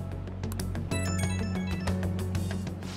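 Phone ringing in the Persona 5 Royal video game, a steady electronic ringtone with repeating tonal pulses, close and clear over a continuous game backdrop, no talking.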